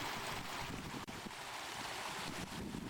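An Irish waterfall rushes in a loud, broadband roar that stays constant and close, with wind buffeting the microphone and one brief dip in level; no one speaks.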